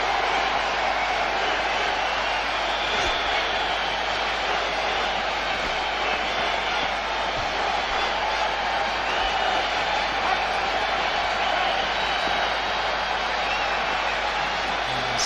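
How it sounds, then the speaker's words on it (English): A large crowd at a Kolkata Test match between India and the West Indies in 2002 keeps up a dense, steady roar. The noise stays even throughout and faint speech sits underneath it. "Big crowd here today."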